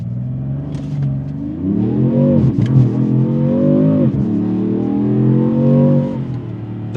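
A 2026 Dodge Charger Sixpack Scat Pack accelerates hard on an empty road, its engine note climbing loudly and close, with sharp, aggressive gear shifts cutting in before the pitch rises again.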